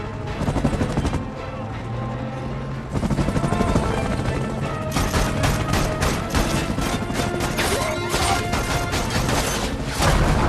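Gunfire rattles through a chaotic car chase in an action thriller, with dense, loud bursts of shots and crashes over engine and music noise that continue throughout.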